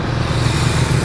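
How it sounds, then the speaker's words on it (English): A steady, low engine drone rumbles without a break, like motorbikes idling or running close by, with no voices. "When I can hear myself think over these motorbikes."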